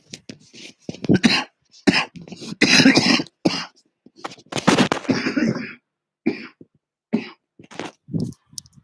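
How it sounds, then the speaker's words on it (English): A person coughs repeatedly and clears their throat in a series of close, loud, irregular bursts separated by short silences. "Coughing ASMR."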